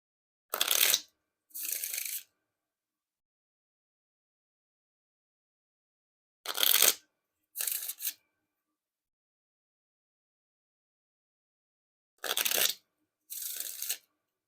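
Gold Split Spades playing cards are riffle shuffled and bridged three times, each pass a crisp ripping flutter followed by a softer cascading bridge, separated by silent pauses.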